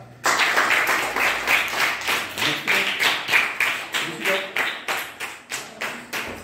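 Children in a classroom clapping together in a steady rhythmic pattern of repeated claps, close and fairly loud, with faint voices underneath.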